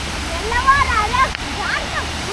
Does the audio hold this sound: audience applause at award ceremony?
no